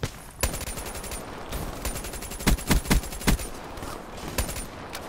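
Rapid bursts of automatic fire from a Razorback gun in a video game, with several distinct loud volleys in the middle and quieter shots around them, accompanied by repeated high-pitched game effect tones.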